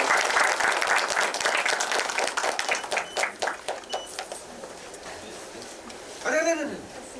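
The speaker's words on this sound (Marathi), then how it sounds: "जोरदार टाळ्या तेंडुलकर सरांसाठी." Loud applause from an audience at a Marathi film trailer launch, dense at first then thinning into scattered claps, with a voice breaking in near the end.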